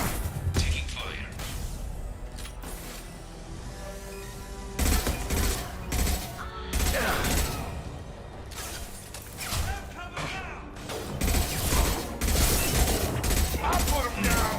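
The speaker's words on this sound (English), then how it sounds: "Taking fire." Rapid bursts of gunfire crackle in a Mass Effect Legendary Edition firefight, with repeated loud volleys and mechanical clatter throughout, while voices call out over the shooting.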